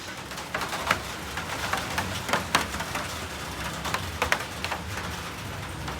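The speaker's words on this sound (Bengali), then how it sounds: "হচ্ছে টিপটাপ বৃষ্টি।" Light rain patters steadily on surfaces at home on a windy day, a soft continuous hiss dotted with louder drips and taps, with a faint bird cooing in the background and no voices.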